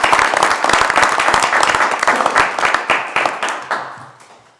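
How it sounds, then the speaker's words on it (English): Applause for Mr. Swecker at a town council meeting: dense, steady clapping from a roomful of people, holding strong for several seconds before gradually thinning out and fading toward the end. "So for Mr. Swecker, let's give him a round of applause."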